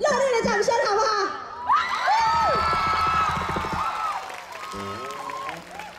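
A live audience at a talk performance breaks into applause and cheering, with excited shouts and whoops from the crowd and a voice over the noise.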